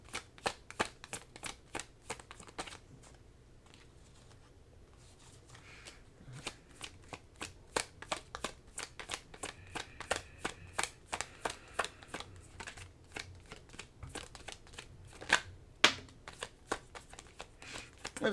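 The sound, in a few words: shuffling tarot cards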